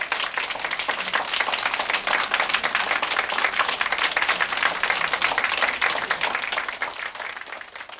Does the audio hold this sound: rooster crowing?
no